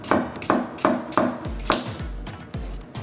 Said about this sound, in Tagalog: dito natin hiwain yung onions